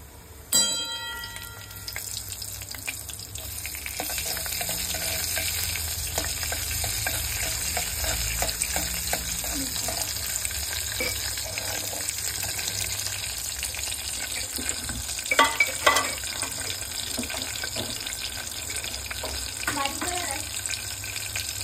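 Oil frying in a pan while dal is cooked, a steady crackling sizzle running throughout, with scattered stirring clinks and a sharp clatter at the start.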